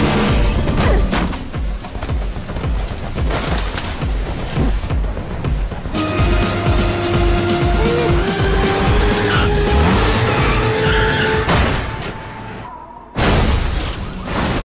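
Car chase with tires skidding: loud squealing tires and revving engines run almost continuously, with short harsh bursts and a brief drop near the end before the noise returns, no voices.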